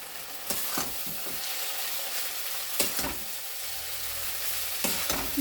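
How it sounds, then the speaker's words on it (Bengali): Boiled chow mein stir-fries in a pan with curry leaves, giving a steady, close sizzle broken by a few sharp spatula scrapes and tosses. "এবার এই সেদ্ধ করা চাউটা দিয়ে দিচ্ছি এতে।"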